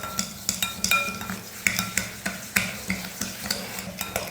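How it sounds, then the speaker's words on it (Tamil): Egg and sugar are mixed in a bowl with a utensil, giving rapid rhythmic clinks and scrapes against the bowl, close and steady throughout. "மிக்ஸ் பண்ணிடலாம்."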